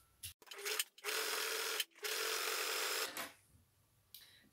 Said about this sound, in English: So now I have sewn a zigzag all the way across.